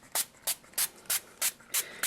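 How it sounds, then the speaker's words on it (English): A handheld spray bottle mists paint palette wells in seven short, crisp hissing pumps at an even rhythm, close and alone against quiet. "I grab a spray bottle and I mist all my palette wells"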